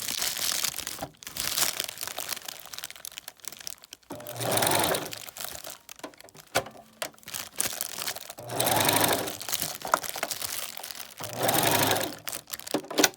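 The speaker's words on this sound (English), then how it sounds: "drop our needle, and we're going to begin to sew." A sewing machine stitches a glueless frontal wig in several short bursts of fast, close mechanical rattling, separated by pauses with soft crinkling and handling of the material.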